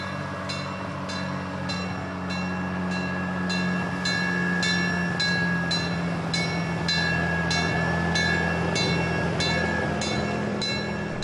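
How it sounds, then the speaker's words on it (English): The Galloping Goose No. 5 rail motorcar creeps slowly along a wye track in Cascade Canyon in the Rockies, giving a steady low engine drone with a run of regular clicking wheel beats over rail joints. No talk is heard. "Galloping Goose No. 5 moves slowly along the east leg of the Y at Cascade Canyon."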